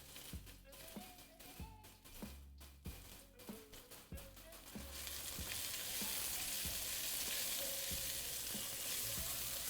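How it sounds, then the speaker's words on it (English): Peppers, onion and potatoes sizzle steadily in a pan, with repeated stirring scrapes and taps early on before the frying noise swells into a loud, constant hiss. "When you're frying this kind of stuff, you don't want to go too far. You have to stir it pretty frequently."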